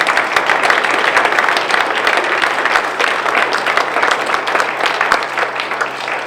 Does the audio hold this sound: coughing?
no